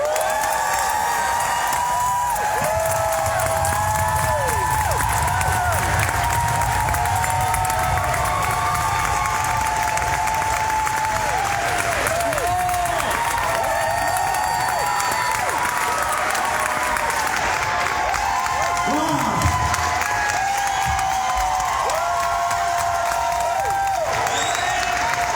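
Audience at a town hall event applauds and cheers at length, dense sustained clapping with scattered whoops and shouts, loud and close throughout.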